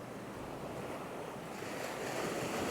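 Waves wash steadily onto Nang Thong Beach in Khao Lak, Thailand, at dawn, a continuous soft surf roar with light wind noise and no voices.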